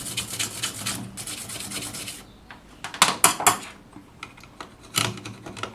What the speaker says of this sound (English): I'm busy wiping away those marks. Just give it a good little scrub.